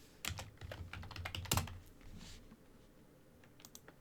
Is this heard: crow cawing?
no